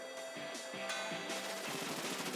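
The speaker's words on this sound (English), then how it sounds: "Ah, bullet seed again." Bullet Seed attack in Pokemon Sword and Shield fires as a rapid, steady stream of sharp popping shots, loud and close, sustained without pause.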